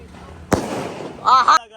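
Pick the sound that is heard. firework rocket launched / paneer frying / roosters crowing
firework rocket launched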